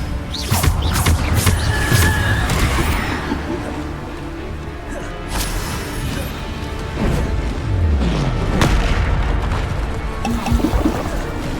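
Bombarda explosion spells go off in Hogwarts Legacy, loud blasts and crashes among rapid spell effects, with a voice shouting incantations over the combat.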